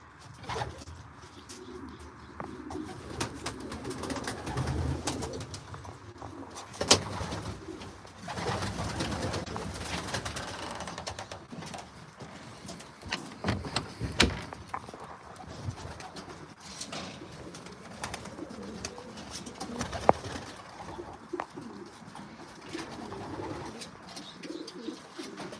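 Racing pigeons coo steadily inside a loft, a continuous layered murmur of soft calls with occasional wing flaps and brief louder sounds over roughly 26 seconds, with no talking.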